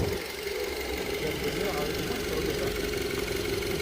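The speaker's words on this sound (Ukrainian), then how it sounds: "Двигун працює гарно, рівно" An Audi car engine idles with a steady, even rumble close by while people speak over the hum.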